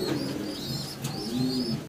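Several pigeons of show king breed, a pair in breeding mode, coo steadily in a loft, with soft overlapping calls and occasional chirps close by throughout, no talking.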